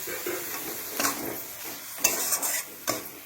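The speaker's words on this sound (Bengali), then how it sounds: "গ্যাস আস্তে করে দিয়ে ধীরে ধীরে এটাকে করতে হবে আলুটাকে এইভাবে ধীরে ধীরে জাল দিয়ে এইভাবে টাইট করে নেবে" Mashed potato being stirred in a pan over low heat, with a gentle sizzle beneath repeated scraping and knocking of a spoon against the pan, close and moderately loud.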